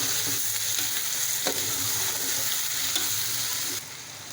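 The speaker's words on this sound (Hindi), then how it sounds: "अब इसमें चिकन डालेंगे। अब इसको अच्छे तरीके से मिक्स कर लें।" Chicken pieces frying and being stirred in a pot of browned onion and ginger-garlic paste for chicken pulao: a steady close sizzle with repeated scraping and clinking stir strokes, no talking.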